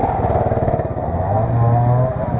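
A trials motorcycle engine revs and burbles close by on a section at the Women's British Trials Championship, a loud continuous throttle note that rises and holds steady.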